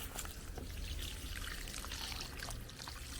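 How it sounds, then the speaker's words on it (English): Water is poured steadily into a freshly replanted wooden plant pot holding hardy native plants, giving a continuous close trickle and splash with no talk. "Right, let's give it a water."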